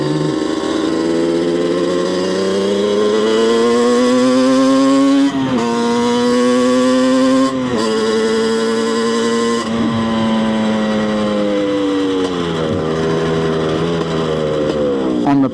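A Yamaha Banshee supermoto's twin-cylinder two-stroke engine idles roughly and revs repeatedly, its pitch climbing and dropping with each throttle blip, loud and close for the whole stretch with no talking.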